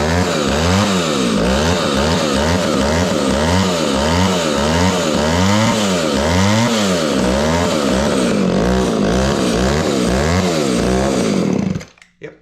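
An Echo 280e chainsaw engine runs steadily at close range with a rhythmic, pulsing idle that needs cleaning, loud and continuous before cutting out abruptly at the end.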